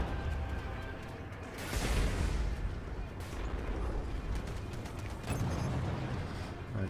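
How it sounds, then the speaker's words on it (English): Sustained gunfire booms and rattles as torpedoes are shot down in the space combat game Strike Suit Zero, with dense rumbling bursts and louder swells, while a voice talks over it. "we're shooting down torpedoes, we're doing good"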